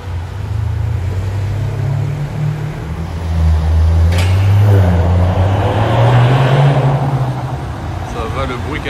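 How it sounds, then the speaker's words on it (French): A Rolls-Royce fitted with a Mansory exhaust drives past with a loud, deep low rumble that swells toward the middle and fades, with traffic noise around it. "Ça va le bruit qu'elle a fait pour une Rolls"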